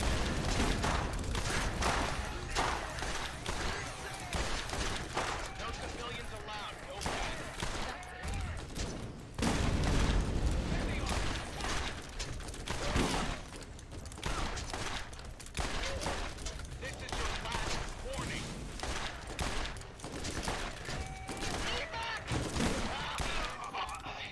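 Masher gun in Borderlands firing in rapid bursts of shots layered with thuds and booms, dense and continuous through a firefight, with someone speaking occasionally underneath.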